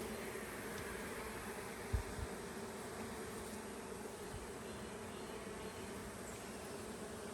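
Honey bees stirred up during a hive inspection after a swarm, their dense buzzing hum filling the air steadily, with a brief thump near the start.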